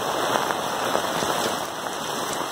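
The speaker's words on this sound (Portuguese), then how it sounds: "tá chovendo muito" Heavy rain pours steadily on a storm-hit house in Ubatuba, São Paulo, a dense continuous hiss of drops close by with no voices.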